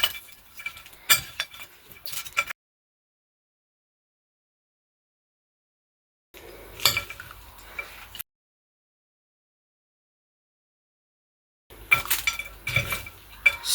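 Cutlery scrapes and clinks against a dish as breakfast is mixed, in three short bursts of busy tapping separated by silence.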